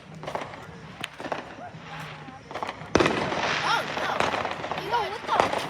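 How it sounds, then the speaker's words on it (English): Fireworks bursting all around at a crowded display, sharp bangs and crackles popping repeatedly with a loud blast midway, mixed with excited shouting and whistling voices. "it's fireworks everywhere"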